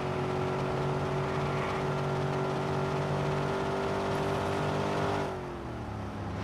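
A car in Watch Dogs drones with a steady, loud engine hum held at constant pitch, then eases off and drops toward the end.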